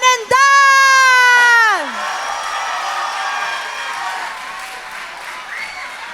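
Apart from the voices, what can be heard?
audience applauding and cheering at closing ceremony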